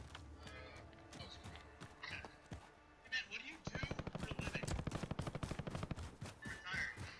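Gunfire from Call of Duty Warzone on a dam: scattered distant shots give way to a rapid, sustained burst of automatic fire, fairly faint, with players talking over it.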